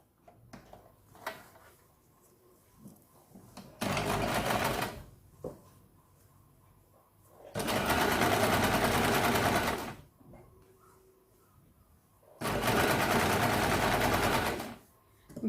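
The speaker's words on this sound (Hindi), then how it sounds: "यहाँ पे आपको साइड किनारी पे यहाँ पे एक सिलाई लगानी है।" An electric sewing machine stitches the side edge of a Katori blouse in three loud, steady whirring runs, with quiet pauses and light handling noises between them.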